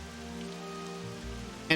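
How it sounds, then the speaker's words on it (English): Rain falls on a golf hole in the PS2 video game Disney Golf, a steady soft patter of drops with a louder splash of noise at the very end. "So this hole, yeah, it'll rain."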